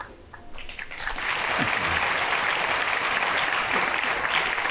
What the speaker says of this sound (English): are you all clapping?